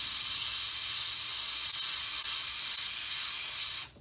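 Spray paint hissing steadily from an aerosol can onto model railroad track, a continuous close, loud spray that runs without a break and cuts off abruptly near the end.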